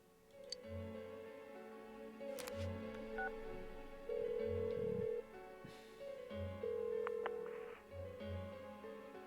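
A phone number dialled in Persona 4 Golden, a run of short electronic key tones and beeps played one after another in a quiet scene, with no talk.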